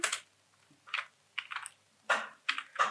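Bursts of typing on a computer keyboard while entering labels into an Excel spreadsheet, several quick clusters of clicky keystrokes separated by short pauses, close and clear with no talking.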